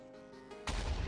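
An explosion in Minecraft, from TNT thrown during a hide-and-seek game, bursts in loud and close with broad noise after a quieter stretch of game ambience, and the blast continues to the end.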